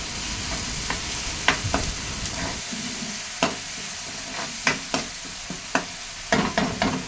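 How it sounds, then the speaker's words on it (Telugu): Green chili paste fries lightly in oil for a village-style mud crab curry, a soft continuous sizzle broken by a series of sharp spoon-on-pan scrapes and taps spaced irregularly, close by with no voices. "ఆ పేస్ట్ ఆయిల్లో వేసుకుంటున్నాము వేసుకొని కొంచెం ఫ్రై చేసుకుంటాం"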